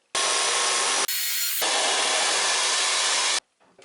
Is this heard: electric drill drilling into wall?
yes